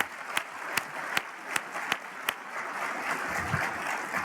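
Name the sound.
audience applause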